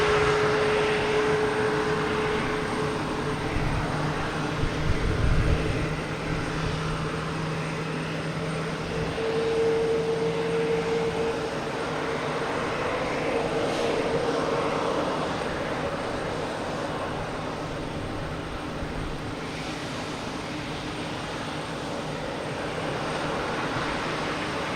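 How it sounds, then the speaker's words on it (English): An Aer Lingus airliner coming in to land at Boston Logan Airport gives a steady, moderately distant engine roar with a faint tonal hum, building slightly midway. No one is speaking. "here's the Aer Lingus coming in"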